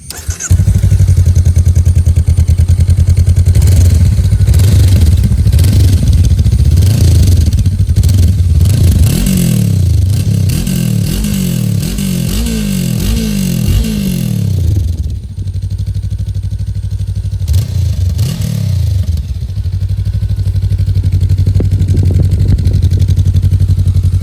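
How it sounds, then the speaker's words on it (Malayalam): A Honda NX 500 parallel-twin motorcycle engine starts, settles into a steady loud idle, and is revved in several rising and falling bursts before returning to idle, heard up close. "ഇനി നമുക്കൊന്ന് സ്റ്റാർട്ട് ചെയ്ത് എക്സോ സൗണ്ട് ഒന്ന് കേൾക്കാം"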